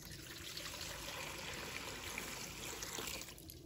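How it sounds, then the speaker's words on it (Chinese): Clean water pours steadily into a basin of peeled potatoes, a continuous splashing trickle that holds at an even level for several seconds before easing slightly at the end. "倒入清水"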